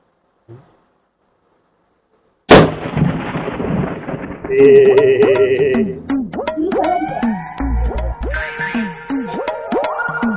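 A sharp, loud bang bursts out of near silence, followed by a burst of commotion with voices and clattering noise.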